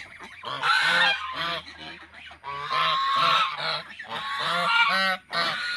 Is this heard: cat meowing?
no